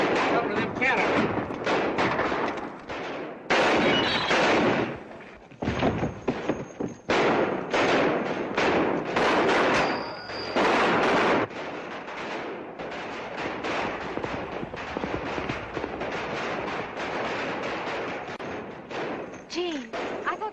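Gunfire from a 1937 Western feature, with repeated loud shots and thuds crowding a dense, noisy soundtrack, under and between spoken dialogue.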